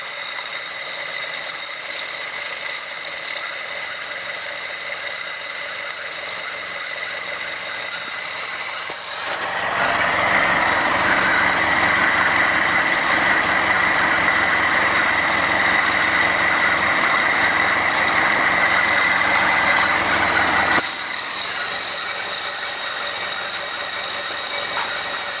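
A Ford Pinto engine idles steadily with a loose exhaust bracket buzzing and rattling, and the sound grows louder and fuller partway through before dropping back.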